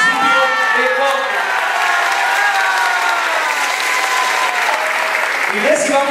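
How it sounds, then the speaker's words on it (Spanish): Loud, sustained applause from an audience at a political event in Morelos for the governor-elect, steady dense clapping with some cheering and crowd voices throughout. "Recibamos también con un fuerte aplauso a Sandra Lucía Balón Narciso"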